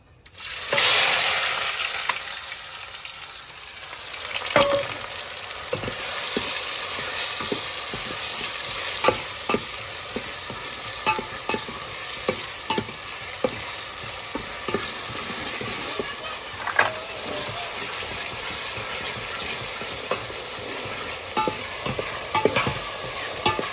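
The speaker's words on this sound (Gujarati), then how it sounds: "હવે પછી નાખવાની છે એમાં ડુંગળી." Onions hit hot fried spice masala for a mutton curry, giving a loud burst of sizzling, then a steady close crackle with repeated clacking spoon strokes as they are stirred, with no talking.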